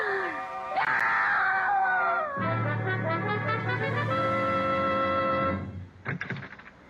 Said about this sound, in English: I heard a scream.